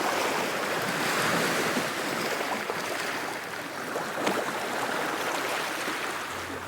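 Ocean waves break and wash continuously onto a sandy shore, a loud, steady surf roar with a light rush of wind and no voices.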